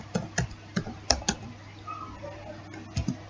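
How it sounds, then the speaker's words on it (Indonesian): Several sharp keystrokes tap on a computer keyboard as Cisco Packet Tracer CLI commands are entered, close and fairly quiet, in short irregular clusters. "kemudian kita ketik enable"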